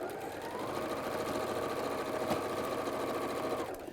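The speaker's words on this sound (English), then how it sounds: "So you're going to stitch those together." A sewing machine stitches small quilt pieces together in a steady, continuous run, fairly quiet and even in pace, with no talking.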